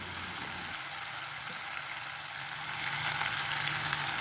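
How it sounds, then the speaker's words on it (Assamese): Ginger-garlic paste fries in a pan as it is stirred, giving a continuous soft sizzle that swells slightly louder toward the end, with no one speaking. "ভাজা নোহোৱালৈকে তেনেকৈ লৰাই লৰাই ভাজি আছোঁ।"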